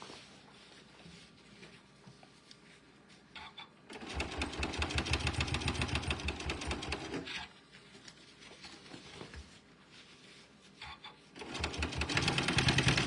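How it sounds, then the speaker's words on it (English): A sewing machine top-stitches around a fabric car trash can in quick rattling bursts, with quieter pauses between runs of stitching, heard close up without speech. "I'm just following my little mark on my foot that I've drawn on there to just top stitch us all the way around"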